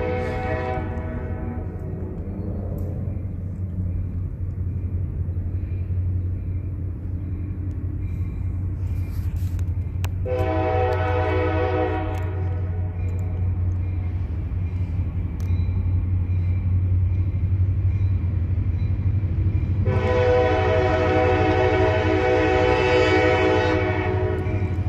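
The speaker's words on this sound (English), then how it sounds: "this is a whole different train right here" A train rumbles past continuously at close range while its horn sounds in several long blasts, heavy low rolling noise underneath throughout.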